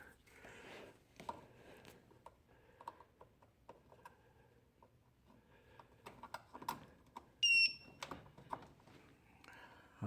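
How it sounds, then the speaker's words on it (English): A short, high electronic beep rings out once from a wireless hoist remote controller as it is plugged in, amid quiet clicks, rustling and handling noises nearby. "I heard the controller beep."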